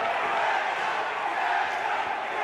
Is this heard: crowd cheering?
yes